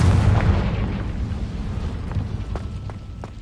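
A Confringo fire spell in Hogwarts Legacy bursts with a deep, rumbling boom that decays slowly, followed by a few faint crackling pops, loud and close with no talk.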